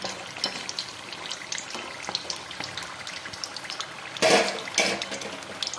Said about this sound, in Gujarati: અને આપણે તળાવવા દઈશું